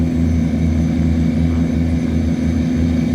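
Several tugboat engines run together, pushing against the river current. A loud, steady drone with a low rumbling throb continues throughout, and no voices are heard.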